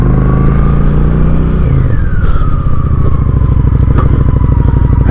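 A Honda Shadow 750 ACE motorcycle accelerates loudly up close, its engine note rising then shifting through a gear change into a steady, rhythmic throb with heavy wind and road rumble.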